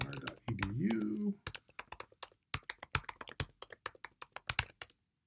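Fingers tap out login details on a computer keyboard in quick, uneven bursts of close clicks, with a brief voice at the start before the typing continues alone.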